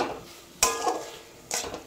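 A spoon scrapes and clinks against a pan while a monda mithai sweet mixture is stirred. Two distinct metallic strokes sound up close, separated by quieter scraping.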